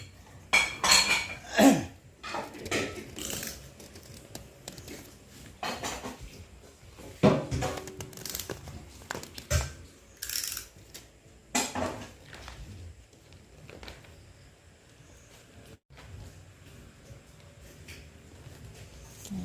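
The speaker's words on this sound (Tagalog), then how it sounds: "Si Kuya naghuhugas pa ng pinggan." Plates and dishes being washed by hand, with irregular clinks and clatters of crockery and cutlery coming in bursts between quieter stretches, fairly close, with no talk.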